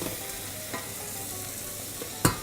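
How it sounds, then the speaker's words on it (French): Butter, 25 g of it, sizzles quietly in a pan while aromatics are fried for a chicken jus, a soft steady crackle close by, broken by a few sharp scrapes of stirring near the end. "nous prenons nos 25 g de beurre, on fait revenir"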